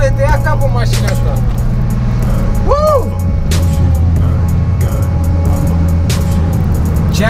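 A 600 hp BMW E30 heard from inside while driving, with a constant loud drivetrain and transmission drone and road roar, a short whine and some passing sounds in the mix.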